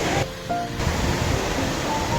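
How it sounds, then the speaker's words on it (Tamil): The Courtallam waterfall in full, heavy flow gives a steady, loud roar of rushing water. The dense, continuous wash of sound holds evenly with no voices. "அருவியில் பார்த்தீங்கன்னா தண்ணி அதிகமாக வந்துக்கிட்டு இருக்கு"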